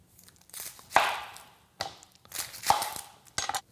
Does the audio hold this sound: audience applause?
no